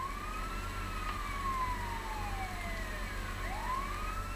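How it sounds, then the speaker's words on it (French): A video game police car siren wails steadily at a distance in LEGO Marvel Super Heroes, its pitch sweeping down slowly and then rising again over a constant low engine rumble. "Sirène saoulante."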